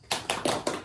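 A small group claps a rhythmic spirit chant in a classroom setting, four sharp clap bursts spaced evenly and fairly close.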